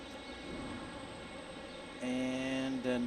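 Delta 3737, an airliner inbound from Midway, arrives on runway 22 at Detroit Metro airport: a steady distant jet roar rumbles throughout, then swells louder near the end as a tonal engine whine rises and holds.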